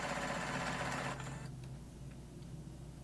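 Sewing machine stitching fabric for throw pillows, a steady close-up whir that cuts off after about a second, leaving quieter handling noise.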